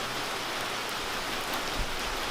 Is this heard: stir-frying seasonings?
no